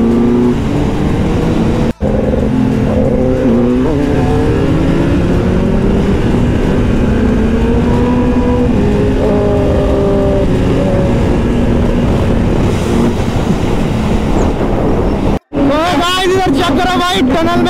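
A loud Kawasaki Z900 motorcycle engine revs and accelerates up close, its pitch climbing and falling through gears, with heavy rushing wind noise throughout.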